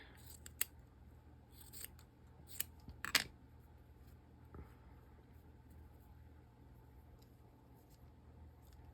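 Scissors snipping to cut down a craft piece, heard as a few quiet, crisp clicks spaced irregularly in the first few seconds, then mostly faint room hiss.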